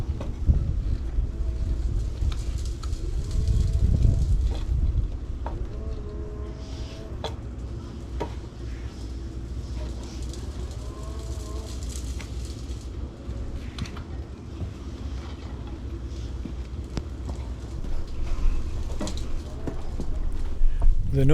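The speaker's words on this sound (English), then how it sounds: "The noise you can hear in the background is a large digger over at the neighbours, removing a driveway and a hedge" A large digger removes a driveway and a hedge at the neighbours' property. A steady low engine rumble runs throughout at a distance, with occasional faint clanks and some wind noise over the microphone.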